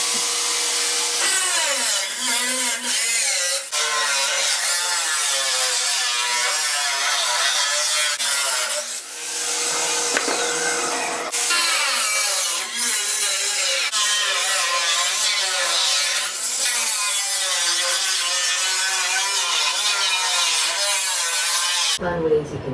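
A power tool cuts through the sheet-metal floor of a 1967-72 truck bed, a continuous harsh grinding whine with brief dips, ending abruptly.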